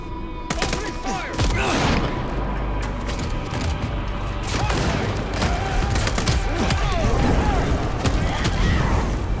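Gunfire in Vampire The Masquerade Bloodlines 2 video game, loud bursts of shots and booms in rapid volleys throughout, with a voice briefly calling out over the fusillade.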